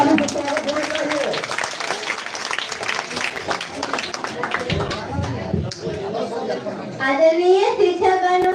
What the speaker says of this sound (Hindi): प्रीति कुमारी के जोरदार ताली से स्वागत होना चाहिए।